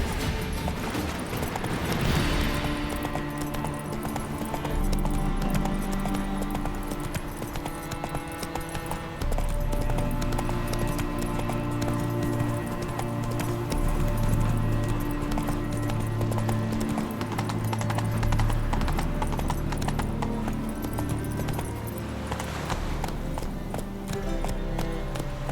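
In The Witcher 3: Wild Hunt, a horse gallops with a continuous clip-clop of hooves under swelling game music, close and steady, with a faint whinny along the way.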